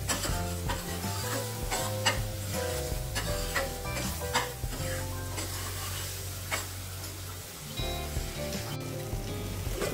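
Prawn curry masala with finely chopped coriander being stir-fried in a pan, a steady spatula scraping and stirring over a soft sizzle, with regular clicks and knocks against the pan; no talking.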